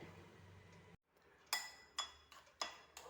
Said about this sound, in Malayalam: ഇനി ഇത് പതുക്കെ മിക്സ് ചെയ്തെടുക്കാം